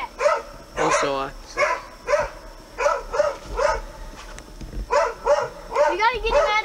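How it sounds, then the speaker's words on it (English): Large dogs barking repeatedly in a steady, rhythmic series of loud, close barks with a few higher yips, continuing throughout. "Dog, shut up!"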